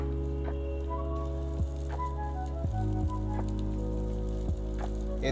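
Curry leaves dropped into hot oil with cumin while cooking poha, making a steady close sizzle with occasional pops and crackles throughout.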